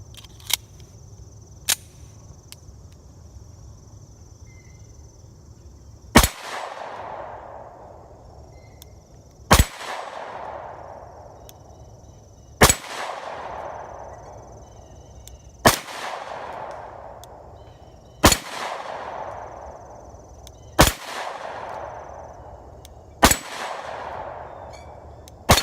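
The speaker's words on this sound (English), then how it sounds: "Okay, we're going to take those shots now." A Rock Island 1911 10mm pistol firing about eight loud single shots at irregular intervals of a few seconds, each a sharp crack with a short ringing decay, plus a couple of fainter clicks early on.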